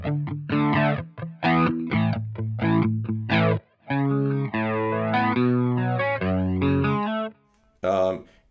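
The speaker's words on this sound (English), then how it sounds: "And then the last one on here is a flanger." Electric guitar played through a flanger on a Strymon Iridium pedalboard, loud chords and sustained notes with sweeping, swirling modulation, a few brief gaps between phrases.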